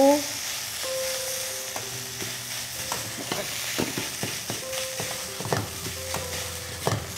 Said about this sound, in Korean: 요거 맛간장으로 조금만 넣어서 간을 해서 밥을 볶아 보겠습니다